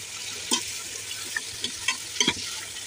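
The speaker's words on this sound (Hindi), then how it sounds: "अब हम उसी ऑयल में अपना बीफ फ्राई कर लेंगे।" Beef frying in oil over a full flame while cooking haleem, a steady broad sizzle with occasional sharp scrape-and-clatter spikes from stirring spaced irregularly throughout.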